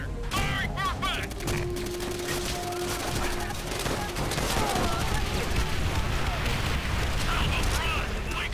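Artillery strike in Call of Duty: World at War, dense continuous gunfire and rumbling explosions with rapid crackling bursts throughout, loud and close, with voices shouting over the barrage.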